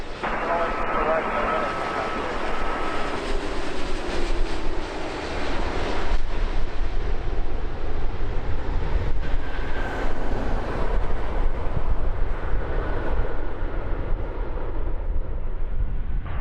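A heavy airliner lands on runway 24 right at LAX, its loud, steady engine roar and broadband rush filling the whole stretch with no letup.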